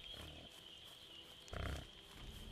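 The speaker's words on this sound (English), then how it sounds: "Can I kill these pigs with this spear?" Pigs in a video game let out low, faint grunts, one short burst near the start and a louder, rougher grunt midway, over a quiet background with a steady high tone.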